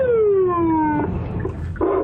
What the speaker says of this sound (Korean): 갓길에서 자전거를 타는 운전자를 발견하고는 사이렌을 울립니다